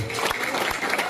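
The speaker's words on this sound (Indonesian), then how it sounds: "Tepuk tangan dong untuk kita semua." An audience applauds at a Balinese bondres comedy show, a dense burst of clapping from a crowd filling the whole short moment.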